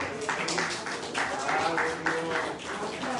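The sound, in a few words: congregation applause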